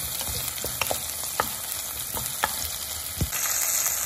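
Meat for meatball sinigang fries and browns in a pan with a steady, close sizzle and crackle, broken by scattered pops and the scrape of stirring, with no one talking.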